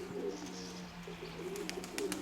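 Pigeons coo softly in low, rounded repeated notes, quiet and somewhat distant, with faint chirps from small birds near the end and no talking.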